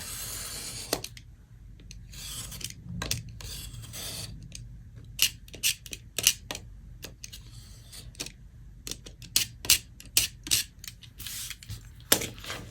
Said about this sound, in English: I'm going to trim a little at a time until I get through the entire stack